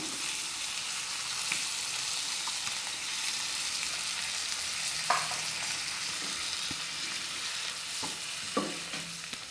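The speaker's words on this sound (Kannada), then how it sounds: "ಈಗ ಬೇಯಿಸಿಟ್ಟುಕೊಂಡಿರುವಂಥ ಪಾಲಕ್ ಸೊಪ್ಪಿನ ಪ್ಯೂರಿಯನ್ನು ಹಾಕ್ಕೊಳ್ತಾ ಇದ್ದೇನೆ" Cooked spinach (palak) puree sizzles steadily in a hot pan for a palak matar curry, a continuous close frying hiss broken by a few sharp scraping stirs and clinks.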